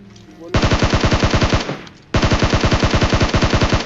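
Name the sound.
video game bots firing guns at military base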